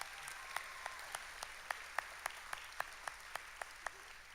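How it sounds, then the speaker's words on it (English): A small awards-event audience at the 2018 Phyllis Richards Austin Icon for Children Award claps faintly and sparsely, with distinct, evenly spaced hand claps sounding over a quiet room for a few seconds. "let's give him a round of applause"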